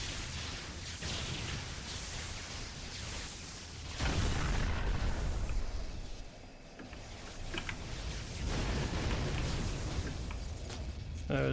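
Flak cannon fire in the Champions Online video game booms and bursts repeatedly amid dense, noisy game effects, with several heavy thumps rising and falling over about ten seconds.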